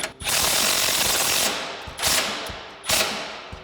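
Impact wrench with an 18mm socket snugging bumper mount bolts on a 2019-2024 RAM 2500, three loud rattling bursts, the first long and the next two short, close up.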